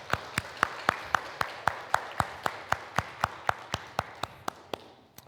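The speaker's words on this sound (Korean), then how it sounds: "우리 수고한 우리 아이들과 성가대에게 큰 박수를 부탁드립니다" A church congregation claps for the children and the choir at a Sunday service, in a steady, evenly spaced unison beat of about seventeen crisp claps that fades slightly toward the end.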